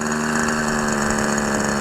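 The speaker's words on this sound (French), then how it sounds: "C'est un moteur segmenté" An OS Max 50 FSR ringed model glow engine runs steadily, richly tuned at low revs during break-in, a loud, close, even buzzing drone with strong harmonic whine throughout and no talking.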